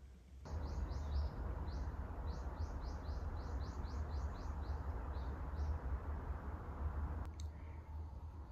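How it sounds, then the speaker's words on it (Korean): Small birds chirp in quick repeated bursts outside a window on a morning, fairly distant over a steady low indoor hum, ending with a brief click. "창밖으로는 새소리가 들리고"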